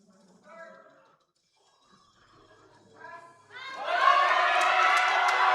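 Crowd at a powerlifting meet cheering a bench press lifter, starting with scattered shouts and voices and swelling into loud sustained cheering and yelling over the last seconds.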